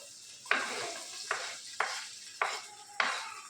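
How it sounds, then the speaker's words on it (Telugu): Onions and green chillies frying in hot oil for a chicken curry, with a spoon stirring the pan in five distinct scrapes at a steady pace over a soft, constant sizzle, close up and with no talking. "ఆయిల్ హీట్ అయిందండి. ఆనియన్స్, పచ్చిమిర్చి వేసేసుకున్నాం."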